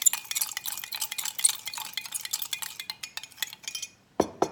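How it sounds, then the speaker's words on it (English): A spoon swirls rapidly in a glass of lime soda to dissolve sugar, a fast run of light clinks and fizzy rattles that stops abruptly, followed by a couple of duller knocks, close and unaccompanied by speech. "So just gonna go ahead and stir that around"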